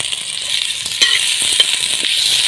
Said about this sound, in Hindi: इसको भून लेंगे। प्याज को, टमाटरों को